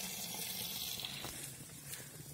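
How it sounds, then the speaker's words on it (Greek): Water from a mountain spring in a fir forest at Niti, Fokida, a faint steady trickle and splash running continuously throughout, with no voices. "Και λίγο νεράκι από την πηγούλα."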